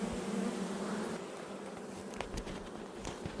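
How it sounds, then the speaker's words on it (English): A steady, dense buzzing of honey bees close by at a hive, with bees hanging off its outside, and faint rustling and tapping noises in the background. "Got bees hanging off the outside of the hive."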